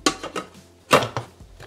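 Thermomix bowl chopping carrots, celery and onion: rapid bursts of blade chopping against a whirring motor, with two strong pulses close by and no voices.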